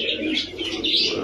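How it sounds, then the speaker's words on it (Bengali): A male Prince Kamargar pigeon coos once up close, a short, soft, throaty murmur lasting about a second. "এটা হচ্ছে নর কবুতর আপনার"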